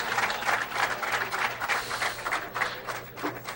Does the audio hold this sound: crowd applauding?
yes